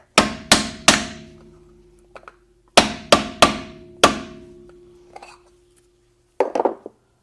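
A hammer strikes a Mercedes-Benz wheel bearing dust cap in sharp metallic blows: three quick hits, a pause, then four more, followed by lighter taps and some clatter, close and loud.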